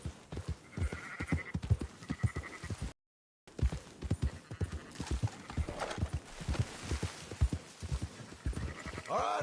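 In a video game, a horse trots with rhythmic clip-clop hooves while sheep bleat nearby, steady hoofbeats running throughout with a short silent gap and layered animal calls.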